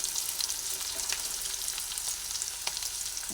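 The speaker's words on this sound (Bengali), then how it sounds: "পেঁয়াজটা অল্প ভাজা হয়ে যাবে" Onions sizzle in a hot pan for a spicy puffed-rice chop mixture, a loud, dense, crackling frying hiss that runs steadily throughout with no voices.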